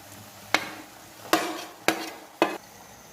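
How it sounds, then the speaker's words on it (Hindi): Chicken gizzards tossed into half-fried onions in a hot pan, four distinct sharp clatters of stirring each followed by a brief sizzling hiss, close and loud with no voices. "मैं प्याज को हाफ फ्राई किया है। अभी पोट डाल रही हूँ।"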